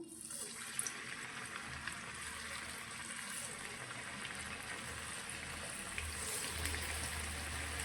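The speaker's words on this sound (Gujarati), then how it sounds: "અને હવે બનાવેલા ખીરામાંથી આપણે દાળવડા અંદર તેલમાં લઈશું" Moong dal vada batter drops into hot frying oil over a medium flame, giving a steady, even sizzle and hiss that holds throughout at a moderate level.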